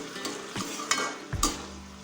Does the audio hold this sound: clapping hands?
no